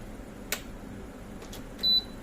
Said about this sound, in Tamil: பீப் சவுண்ட் வந்துருச்சு பாருங்கள்.